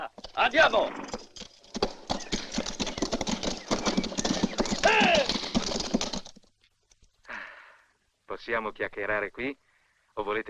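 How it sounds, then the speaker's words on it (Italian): Rapid hoofbeats of a galloping horse thunder steadily for several seconds, followed by quieter moments and people talking. "c'è un cavallo che galoppa!"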